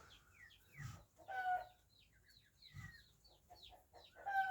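Ducks and other poultry in a coop with nesting hens, heard up close as soft clucks, chirps and short calls in irregular bursts, with low rustling and thumps between them and no talking.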